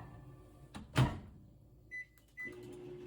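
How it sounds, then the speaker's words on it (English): A microwave oven used for melting chocolate chips: a door clunk and click, then two short electronic beeps and the low hum of the oven starting up. "I'm gonna put them in the microwave to melt"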